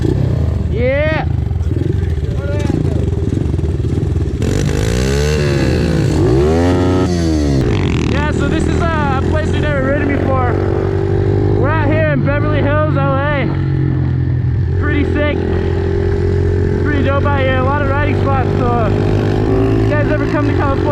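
Pit bikes rev and roar over big BMX dirt jumps, engines rising and falling in loud repeated bursts as riders launch and land, with people talking and shouting throughout.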